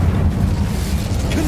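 Incendio fire spell in Hogwarts Legacy: a loud, continuous low roaring whoosh of flame filling the whole moment without a break.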